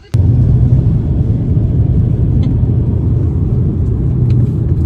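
A car pulls away and drives on, a loud, close low rumble of engine and road noise starting abruptly and continuing steadily inside the cabin, with no talk.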